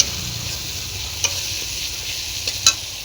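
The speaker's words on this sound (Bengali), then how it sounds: "ভিজিয়ে রাখা এই দেখো চিড়েগুলো এখানে দিয়ে দিলাম" Soaked flattened rice is stirred into hot fried spices in a pan for poha, giving a steady low sizzle with a few sharp scrapes and clicks of the spoon against the pan near the end.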